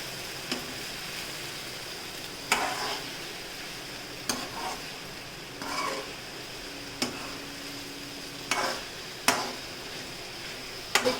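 A spoon stirring sabudana khichdi ingredients in a pan: sparse scraping and clacking strokes at irregular intervals over a soft background hiss, close and moderately quiet, no talking.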